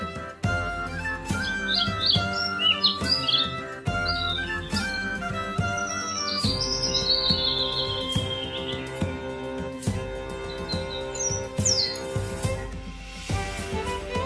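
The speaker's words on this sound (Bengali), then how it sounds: "ঘুঘু পাখি ডাকছে গাছে" High bird chirps and tweets flit over a bouncy, continuous musical backing, sounding like added birdsong effects rather than a lone bird.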